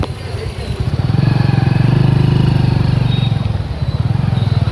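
A motorcycle engine putters steadily nearby, rising slightly in intensity partway through as the bike rides on, with no voices.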